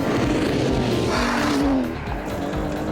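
A 510-horsepower V12 supercar engine warming up, a loud close roar with a rising then falling tone, dipping slightly in level near the end.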